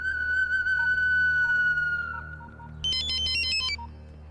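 A telephone plays an electronic ringtone loudly and up close, a sustained tone followed by a rapid warbling burst of chirpy notes before it cuts off.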